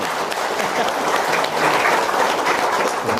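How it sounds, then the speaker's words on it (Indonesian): An audience at a testimonial event bursts into sustained, dense clapping, loud and even throughout the few seconds with no voices on top. "Tepuk tangan dong"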